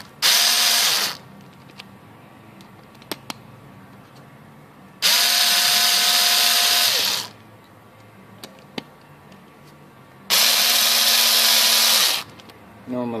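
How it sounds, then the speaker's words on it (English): A power driver runs in three sustained bursts of about two seconds each, separated by quiet pauses with small clicks, as hex screws are driven and pre-threaded into plastic parts of an Axial Yeti AX90026 RC truck. "Now let's install the hex screws."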